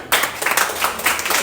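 An audience claps at a softball association opening ceremony, a brief burst of brisk, crowded applause that starts suddenly and carries on fairly loud and close.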